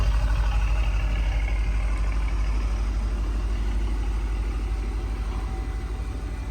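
A 2015 BMW 750i with a 4.4 engine and a remote-controlled exhaust flap idles close by, giving a steady deep rumble with a fine pulsing throb that holds evenly throughout, alone without talk.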